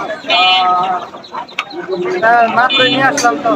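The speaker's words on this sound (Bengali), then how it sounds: "গ্রামের হাটে সব ধরনের হাঁস মুরগি পাওয়া যায়" Chickens at a village poultry market in Gajipur cluck and call close by, buried under loud ongoing conversation from nearby people.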